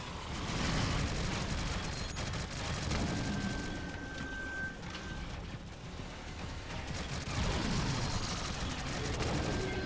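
Gunfire in the sci-fi shooter game Shadowgun Legends during a tough boss battle, a dense, loud, almost unbroken run of rapid shots and impacts over a rumbling background for about ten seconds.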